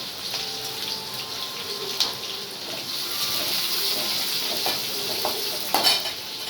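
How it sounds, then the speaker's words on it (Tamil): Crushed garlic with green and dried chillies frying in hot oil, a steady close sizzle with occasional stirring clinks and spatters, no voices. "பூண்டு போட்டுக்கலாம் ஒரே எட்டு பல் இடித்த பூண்டு பச்சை மிளகாய் காஞ்ச மிளகா மூணு"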